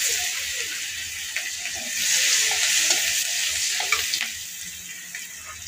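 Onion frying in a pan, a steady broadband hiss and sizzle with scattered clicks of stirring, holding close and fairly loud throughout with no talking.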